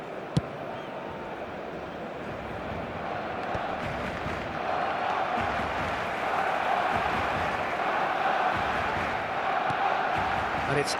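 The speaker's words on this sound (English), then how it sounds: "Maybe the crowd will stay a little quieter next time." A simulated stadium crowd in an eFootball match roars steadily, a broad continuous wash of cheering that swells slightly midway, with commentary speech running over it.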